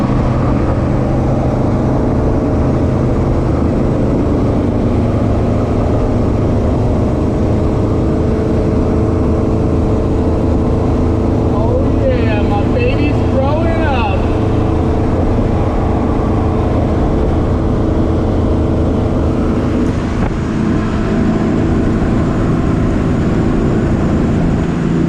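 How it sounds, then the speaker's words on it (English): A ramp truck cruises along an open road, its engine a steady loud drone with road and wind rumble that carries on unbroken for the whole stretch, no talk over it. "we're going to jump in the ramp truck here and just hit the open road"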